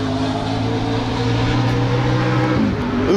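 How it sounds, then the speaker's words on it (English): A car engine drones steadily and close by on the Road Atlanta race track, its pitch sliding upward near the end as the car passes or accelerates. "Oh, I hear cars."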